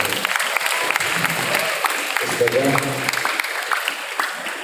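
Audience applause at a family gathering for an Islamic scholar's household, a steady wash of many hands clapping with a voice speaking over it.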